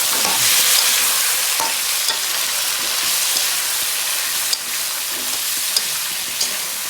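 Potatoes stirred and frying in a pan of meat curry, a steady close sizzle with scraping stir strokes and small clinks throughout, no talking.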